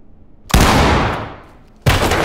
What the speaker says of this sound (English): Use a shotgun on the door,